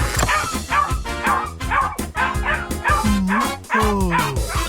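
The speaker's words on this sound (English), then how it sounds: "the dog wakes up, growls, and chases him away." A dog barks and yips repeatedly, loud and close, with steady music playing underneath.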